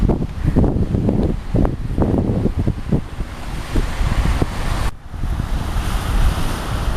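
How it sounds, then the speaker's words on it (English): Waves crash and surge against a hard wall in repeated heavy bursts, with strong wind buffeting the microphone throughout. "The water's smashing up against the seawall right now"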